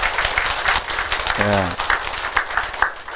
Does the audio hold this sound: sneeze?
no